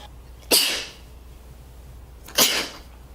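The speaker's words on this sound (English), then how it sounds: "that's how I sneeze" Two loud, sharp sneezes about two seconds apart, each a sudden burst that trails off, with quiet room tone between and no talking.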